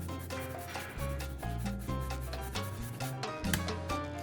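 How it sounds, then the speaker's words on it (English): Parmesan cheese grated over a plate of orecchiette with Italian sausage, a close, steady rasping scrape in repeated strokes with no talk. "A little cheese, Parmesan cheese, grate on top."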